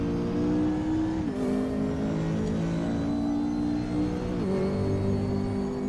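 A race car engine in the RaceRoom video game at Watkins Glen roars steadily at high revs, its pitch dropping twice as gears shift, loud and close with no talking.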